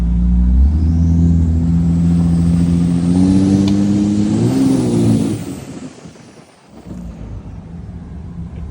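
A deep 5.9 Cummins diesel engine in a 2005 Dodge Ram dually pickup rumbles steadily while driving, rises slightly as it revs, then eases off, with road and wind noise underneath.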